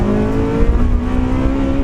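A Honda Civic Type R Championship White Edition engine is revved and held on the rev limiter around 8,200 rpm, a loud, close, sustained high-pitched roar with a rapid, steady pulsing flutter.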